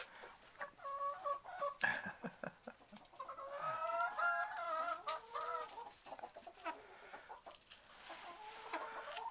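Three mottled Cochin bantam chickens with feathered feet cluck in a winter coop. Their soft, close calls rise and fall in irregular bursts, with a few sharper squawks among them.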